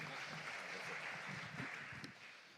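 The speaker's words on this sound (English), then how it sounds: "give him a welcome applause" Conference hall audience applauding to welcome a speaker at a festival talk, a faint, distant, steady wash of clapping that fades slightly at the end.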